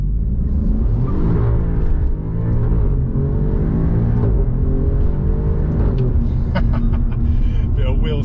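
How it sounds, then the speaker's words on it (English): A rear-wheel-drive 2020 Alfa Romeo Giulia Quadrifoglio accelerates hard with a touch of wheel spin, its engine note climbing loud and close in a steady rising rev that holds for several seconds. "Bit of wheel spin there."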